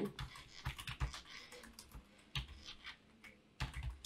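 Close, brisk typing on a computer keyboard while text is entered in MS Word, giving quick irregular key clicks in short bursts with brief pauses, with no talking.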